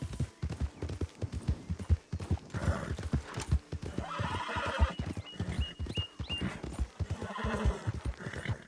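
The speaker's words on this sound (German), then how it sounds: "Das Pferd schon vor der Schlange geflüchtet." A horse in the Western video game Red Dead Redemption 2 gallops with rapid clip-clopping hooves, then gives a loud whinny midway, the hoofbeats continuing close and prominent alongside game ambience.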